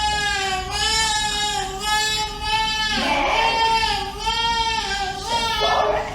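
Voices imitating a horse during a parent-and-child yoga session, with repeated wavering whinny-like cries in a steady series, loud and close, one after another with short pauses.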